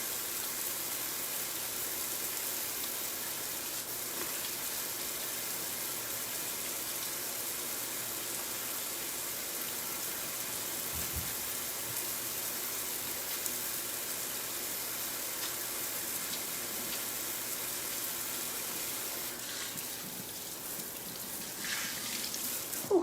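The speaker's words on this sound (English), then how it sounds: "Let's get some really hot water going." Hot water running steadily from a home kitchen faucet, a faint, continuous hissing stream with no talk.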